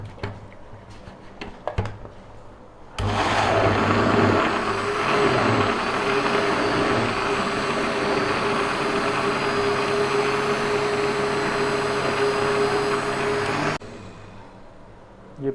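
A blender grinds ginger and garlic into a paste, starting abruptly with a loud steady motor whine that runs for about eleven seconds and then cuts off, with brief handling clatter before and after.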